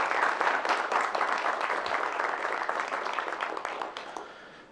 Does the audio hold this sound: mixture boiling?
no